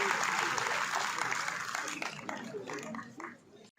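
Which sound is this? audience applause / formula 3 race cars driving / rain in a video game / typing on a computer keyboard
audience applause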